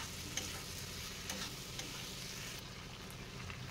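Paneer chilli sizzles and fries in a pan while soy sauce is added and stirred in, giving a steady faint crackle with occasional soft scraping taps of the spoon, with no talk.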